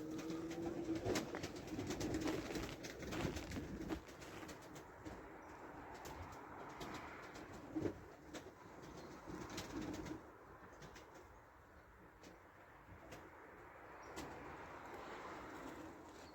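Domestic pigeons take off and fly over a snowy winter setting, wings flapping in bursts with soft cooing, fairly faint and distant with no talking.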